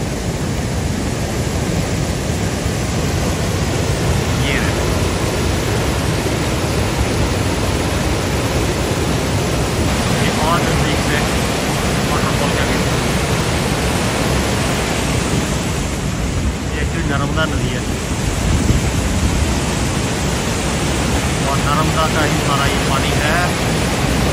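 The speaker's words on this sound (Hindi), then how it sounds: "ये है गुगड़ा वाटरफॉल" Gugda waterfall at Bhedaghat in Madhya Pradesh roars as a steady, loud, broadband rush of falling water, unbroken throughout, with faint voices barely audible beneath it.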